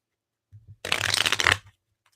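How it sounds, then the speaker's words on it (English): A deck of tarot cards is shuffled up close, with a couple of soft taps and then one dense riffling burst lasting under a second. "we got to shuffle one more time"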